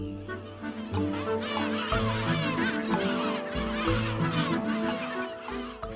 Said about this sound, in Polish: Gwar nad ptasimi koloniami uzupełnia kilka gatunków mew.